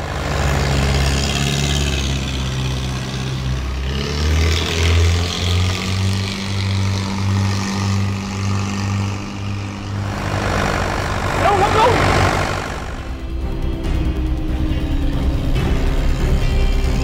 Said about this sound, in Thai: ลุงเร่งเครื่องเต็มที่เลยไป